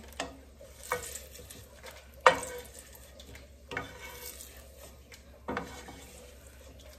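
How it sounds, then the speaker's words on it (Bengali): Dried red chillies being roasted and stirred in a pan, with sharp scraping knocks about once a second over a faint low hum, close and without speech. "কিছু শুকনো মরিচ টাইলে নিচ্ছি"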